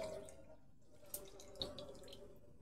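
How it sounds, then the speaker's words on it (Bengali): Reserved lentil cooking water is poured into a spiced turmeric mixture, a faint brief trickle and splash with a couple of small clinks, quiet and close. "এবার দিয়ে দেবো ডালের যে রাখা যে জলটা সেটা দিয়ে দিলাম।"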